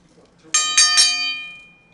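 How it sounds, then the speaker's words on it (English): A jail bell clangs three quick times in a row, bright and loud, then its ringing tone fades out over the next second. "Oh, hey, stop that jail bell."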